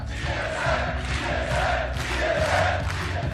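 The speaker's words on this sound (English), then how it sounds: "As tears fell and the crowd chanted" A large esports arena crowd chants and cheers steadily at the League of Legends Worlds 2015 event, a dense, loud, continuous roar of many voices with rhythmic swells and no single speaker standing out.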